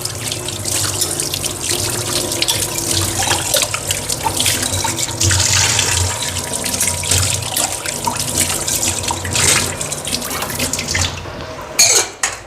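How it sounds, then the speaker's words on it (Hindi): A kitchen tap runs steadily into a sink while glasses are washed, a loud continuous rush and splash with small clinks, without speech. "ये गिलास भी धो लिए मैंने, एकदम थोड़े थोड़े धोंगी।"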